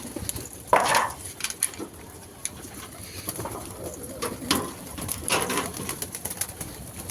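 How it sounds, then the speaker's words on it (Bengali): Pigeons coo inside a loft holding young birds, soft repeated calls with a few louder wingy flutters and light clinks of trays, close and alone without talk. "এটা হচ্ছে আমার নড় পায়রার লফট।"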